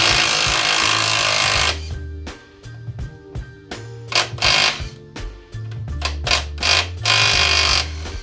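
A power tool, likely an impact wrench, works loose the control arm bolts on a Vauxhall Corsa C track car: a loud continuous whir, then a series of sharp rattling bursts with short pauses between them, close and without talk.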